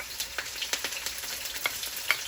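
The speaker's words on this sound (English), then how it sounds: "So let this fry up and release flavor." Chopped onion and scallion fry in a pan for Jamaican-style steamed fish with okra, a close, steady sizzle broken by scattered crackling pops and spits, with no talking.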